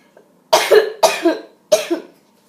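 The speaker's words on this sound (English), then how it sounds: "Now I'm coughing." Three harsh, close coughs in quick succession, each a short burst with a rough double pulse, then quiet.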